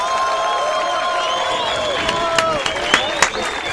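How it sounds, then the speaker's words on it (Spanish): Crowd at a freestyle rap battle final applauding and cheering for battle rapper Knight, a loud continuous roar with whistles and shouts and a few sharp claps standing out toward the end. "un aplauso fuerte para Knight"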